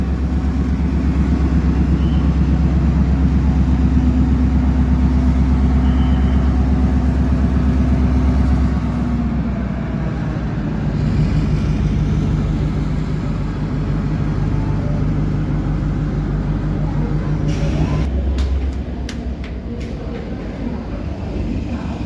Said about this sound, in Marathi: मिरज कुरुडवाडी डेमो निघालेली आहे पंढरपूरवरून प्लॅटफॉर्म नंबर तीनवरून